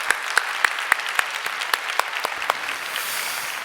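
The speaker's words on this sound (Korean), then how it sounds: "우리 하나님께 감사의 박수 올려드리도록 하겠습니다." Church congregation applause during a sermon, many people clapping together in a steady, rhythmic unison beat, loud and close, loosening into scattered clapping at the end.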